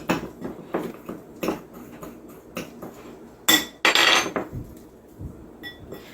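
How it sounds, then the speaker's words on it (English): A metal spoon stirring and scraping a brown sugar seasoning rub for salmon in a bowl, giving a series of sharp, irregular clinks and taps, close and fairly loud, with two busier bursts of clatter midway. "we're just going to stir this together and make for a really nice rub for our sweet heat salmon"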